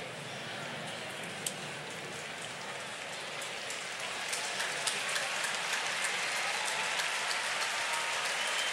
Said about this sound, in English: So Bunyak going off to applause from the Giant fans